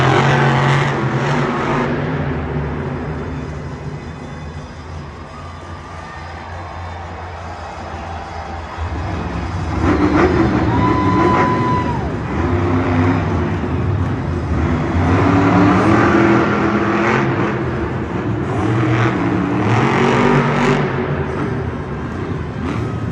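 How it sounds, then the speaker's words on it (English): The El Toro Loco monster truck revs its engine loudly at a Monster Jam freestyle in an Indianapolis arena, with repeated surging roars over crowd and arena noise. "Becky McDonough in El Toro Loco, blowing the smoke out of the nostrils, trying to get these fans amped up for her freestyle"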